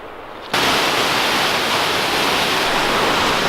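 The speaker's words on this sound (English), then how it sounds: "we're at Sgwd Clun-gwyn, Isaf, the lower waterfalls" Sgwd Clun-gwyn lower waterfalls on the Afon Mellte in Welsh waterfall country roar as a loud, dense, constant rush of falling water that starts abruptly and holds steady, alone without voices.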